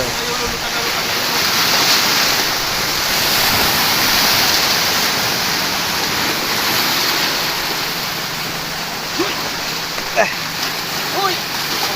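Sea waves surge and rush continuously along the shore, a loud broad wash that swells and eases, with a few sharper splashes near the end.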